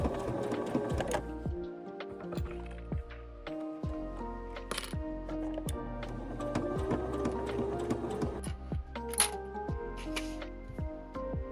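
A sewing machine runs steadily with a mechanical whir and rhythmic needle clatter, close and continuous, with occasional clicks and brief pauses, while sewing cosplay pants and shirt.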